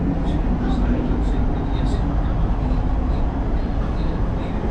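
Steady, loud rumble and rolling hum from inside an MRT metro train in Malaysia, running continuously through the whole stretch with faint squeals above it.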